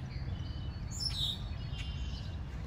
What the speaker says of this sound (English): You can really hear the birds chirping,